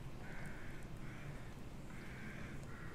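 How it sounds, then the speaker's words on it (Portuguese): Crows caw repeatedly in the horror video game The Evil Within, a series of harsh calls spaced about a second apart over a steady, noisy ambient bed. "Opa, mais barulho de corvo."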